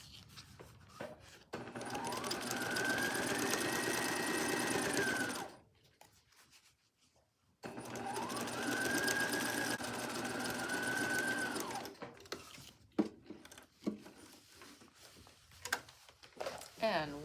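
A sewing machine sews a table runner in two sustained, fairly loud runs separated by a brief pause, followed by handling noises and light rustling.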